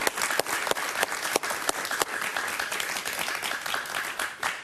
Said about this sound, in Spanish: Un aplauso para Otto Reich, por favor.